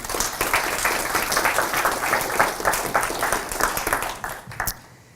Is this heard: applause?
yes